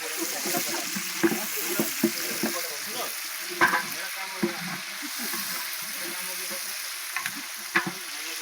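Cashews for pulao crackle and sizzle in oil at close range at a large village feast, a constant hiss broken by soft clinks and scrapes of stirring.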